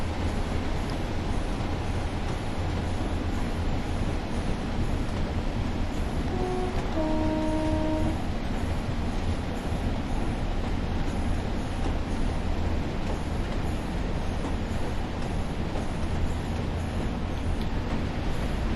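Class 142 Pacer diesel train braking to a stop at a station, a steady rumbling cab and rail noise throughout with a brief squealing brake tone in the middle, close and continuous.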